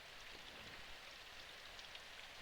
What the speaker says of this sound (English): The sound of pouring rain stayed in my ears and wouldn't fade away.